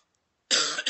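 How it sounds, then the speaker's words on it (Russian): A single adult male cough bursts out after half a second of silence, loud and close, with a brief second rasp at the end. "Задрал кашель"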